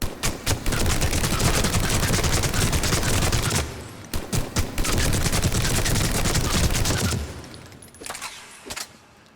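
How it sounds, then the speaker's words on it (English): A Typhoon rapid-fire gun is shot from the hip at point-blank range in Mass Effect 3: a few short opening shots, then long continuous bursts of rapid fire broken by a brief pause and ending in scattered shots. "I'm going to start out firing from the hip, then sight it, and then finally throw in a scope"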